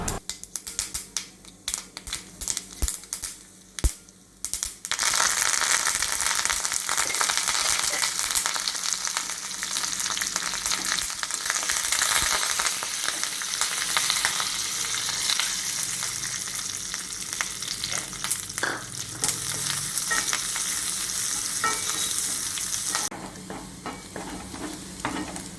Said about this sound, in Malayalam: ഇതിലേക്ക് നമുക്കൊന്ന് കടുക് കൂടി വറുത്തിട്ടേക്കാം